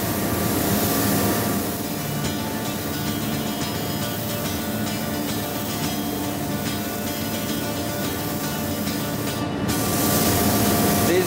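A spray gun lays a fog coat of bond-coat lacquer sealer over a whole Gibson acoustic guitar, a 1936-37 Advanced Jumbo, in the finishing shop: a steady, loud, continuous hiss that runs without pause and swells slightly at the end.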